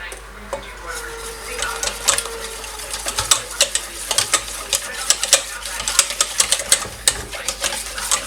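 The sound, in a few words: mixing crepe batter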